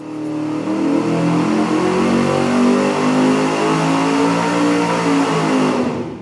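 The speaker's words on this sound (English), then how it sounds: "Next up, the Rumble 2-chamber muffler." A car engine revs loudly through a $40 Rumble two-chamber muffler, giving one sustained, close exhaust roar that swells and then fades out.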